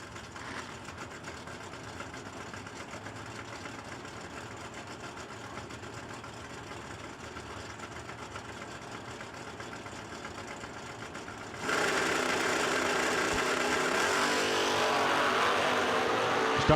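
At a drag strip, a Camaro and a station wagon idle faintly and then launch into a sudden loud, sustained blast of engine roar, with no voices.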